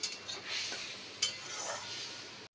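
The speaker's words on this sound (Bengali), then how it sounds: "আমি একটু এটাকে কষিয়ে নেব" Ground spices sautéed in a pan for a vegetarian potato curry, soft scraping stirs and faint sizzling with an occasional metallic clink of the spoon, quiet and close.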